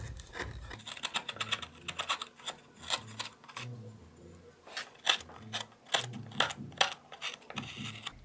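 A flat number 3 fishtail gouge pares wood while smoothing the forehead of a carved wood spirit face. Crisp, close cutting clicks and short scrapes come in irregular bursts, with a brief pause in the middle.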